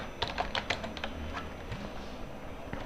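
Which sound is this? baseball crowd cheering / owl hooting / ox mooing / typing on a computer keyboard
typing on a computer keyboard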